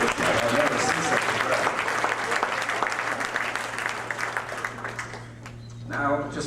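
Applause from a large crowd at a 40th anniversary dinner, a dense sustained clatter of many hands clapping that thins out near the end, with a steady low hum underneath.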